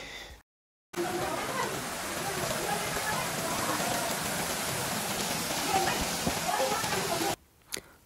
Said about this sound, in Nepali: यस्तो खतरा पानी पर्यो